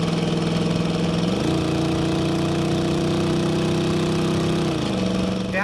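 A lifted 1979 Chevrolet Blazer 4x4 with a 350 engine idles with a throaty exhaust rumble, revs up briefly to a higher steady pitch, then settles back down.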